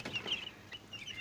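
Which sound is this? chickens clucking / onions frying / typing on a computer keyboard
chickens clucking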